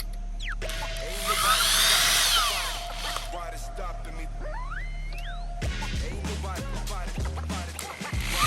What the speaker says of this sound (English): I'm going to start them by hand a little bit before we get the drill.